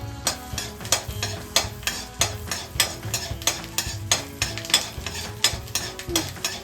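Garlic fries in hot oil in a home kitchen pan, a steady sizzle broken by rhythmic scraping strokes of a spoon stirring about twice a second, close and fairly loud without talking.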